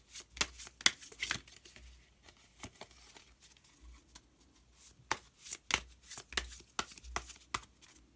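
Tarot cards are shuffled and drawn by hand for a June fortune reading: quick, close riffling and papery flicks in uneven bursts, with soft slaps as cards settle and no voice over them.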